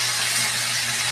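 Food dropped into hot oil in a home kitchen, a loud, steady sizzle and hiss up close that cuts off abruptly at the end, with no voices.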